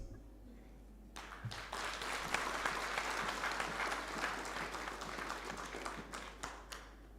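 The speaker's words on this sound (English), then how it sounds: "we give a round of applause to the outgoing executive committee of the Aapscoms" Conference delegates at a public service commissions general assembly applaud the outgoing executive committee, clapping starting abruptly after a second of near silence and continuing as a steady, fairly faint roomful of hands to the end.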